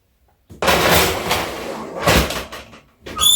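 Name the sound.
oven door closing after putting cookies in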